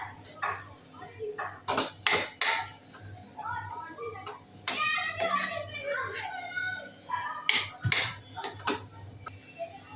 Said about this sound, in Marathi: आता हे पुन्हा छान मिक्स करून घेऊया